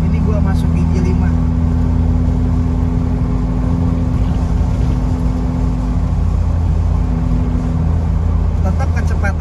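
A 1991 BMW E30 with an M40 engine cruises in fifth gear on a toll road, its steady low engine drone and road roar continuous and loud from inside the cabin.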